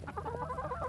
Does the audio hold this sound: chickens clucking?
yes